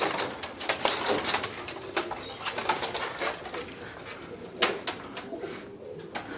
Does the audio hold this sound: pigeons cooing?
yes